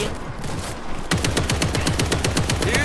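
Heavy automatic gunfire in the zombie shooter World War Z, a steady rapid stream of shots that suddenly intensifies into a loud, dense barrage, no voices heard.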